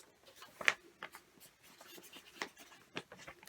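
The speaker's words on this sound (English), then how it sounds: "In the middle of the piece of A4 paper, I want you to write your name." A pen writes a name in the middle of an A4 sheet of paper, faint scratchy strokes in short irregular bursts, heard close and alone.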